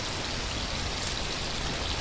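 Steady rainfall in the survival game The Last Plague: Blight, a dense, even hiss of drops hitting surfaces close around, unbroken and without voices for the whole stretch.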